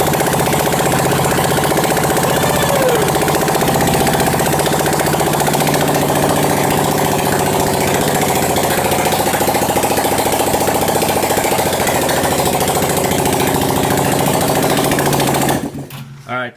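Blue and yellow buggy engine, badly in need of spark plugs, runs loud and steady at idle for about fifteen seconds with a rough, uneven firing rhythm, then cuts off abruptly near the end.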